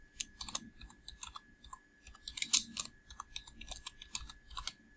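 Rapid, uneven keystrokes on a computer keyboard, close and fairly quiet, coming in short bursts with brief pauses while a date and signature are entered into a spreadsheet.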